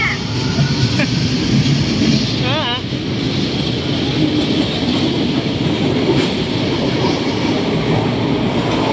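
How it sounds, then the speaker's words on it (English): An LRT Line 1 fourth-generation train passes close by, a steady loud rumble with rail clatter and a brief high squeal partway through. "Wait, another train."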